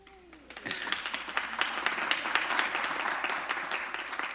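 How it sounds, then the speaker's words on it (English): Applause from a council committee meeting audience, a dense, steady patter of many hands clapping that swells in after a brief quiet start and holds evenly to the end. "The applause got ahead of my congratulations."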